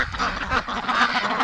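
Muscovy ducks in a cold, windy farmyard give raspy, breathy quacks close by, one call running into the next across the short stretch.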